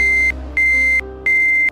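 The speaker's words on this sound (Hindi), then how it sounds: "ये एक अलर्ट मैसेज होता है जिसमें मिसिंग बच्चों के बारे में होता है" A phone sounds an emergency alert for a missing child: three long, steady, high-pitched tones with short gaps between them, loud and close over a low background hum.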